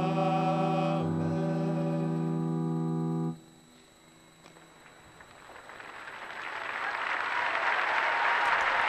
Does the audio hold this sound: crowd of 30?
yes